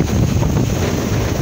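Strong typhoon wind buffets the microphone over crashing sea waves on the Ozamiz coast, a loud, steady roar with no break.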